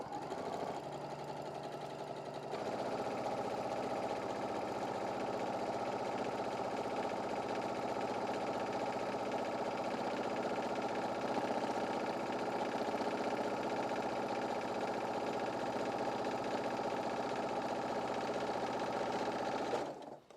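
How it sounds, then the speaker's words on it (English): Sewing machine steadily stitching down the side of a fabric apron strap, a continuous close mechanical whir running without pause for about twenty seconds after a brief softer start. "we're going to go ahead and sew down the other side"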